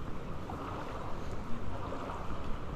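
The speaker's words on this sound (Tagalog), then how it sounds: "Lakas na agos papasok ang tubig." A strong current of floodwater rushes in during Typhoon Enteng, a constant, fairly quiet broadband wash with gusts of wind noise and occasional small surges, without speech.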